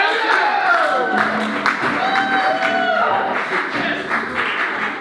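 A crowd at a comedy roast competition applauds and cheers steadily, with whoops rising over the clapping throughout.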